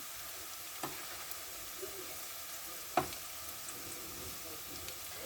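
Onions fry in a pan for a carrot dish, giving a faint, steady sizzle with a couple of soft clicks of stirring, quiet and close, with no one talking.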